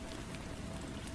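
Steady rain falls continuously, a dense even hiss of drops on a surface with no breaks and no voices.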